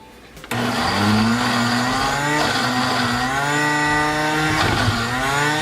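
A blender kicks on after a brief quiet moment and whirs loudly through butternut squash soup, its motor pitch wavering and dipping as the thick mixture churns, steady and close with no talking.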